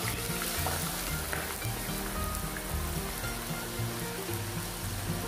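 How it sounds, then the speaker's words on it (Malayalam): Potato slices sizzle in oil in a saucepan over medium flame, a dense, steady crackle and hiss that stays even throughout, with no talk over it. "മീഡിയം ഫ്ലെയിമിൽ വെച്ചിട്ട് നമുക്കിത് ഫ്രൈ ചെയ്തെടുക്കാം കേട്ടോ"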